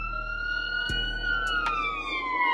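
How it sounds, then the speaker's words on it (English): An ambulance siren rushing injured inmates from a riot at the California Men's Colony prison wails as a steady, sliding tone over a low rumble, loud and continuous. "One ambulance after another rushed inmates to the hospital."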